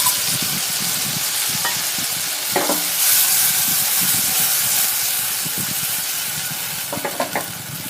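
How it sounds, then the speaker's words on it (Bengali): Masala spice paste for mustard hilsa fries in a hot pan, giving a loud continuous sizzle and hiss with occasional stirring clicks and scrapes, close up and with no talking. "মশলাটাকে আমরা একটু কুক করে নিচ্ছি।"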